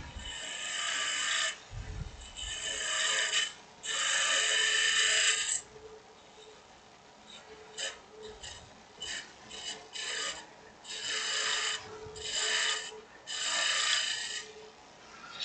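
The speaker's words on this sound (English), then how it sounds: "So I'm just going to start shaping the bottom there, making it nice and round" A natural-edge wooden goblet spins on a woodturning lathe as a tool shapes its bottom, giving close, loud bursts of rasping cutting noise that come in repeated strokes of a second or two, separated by short pauses.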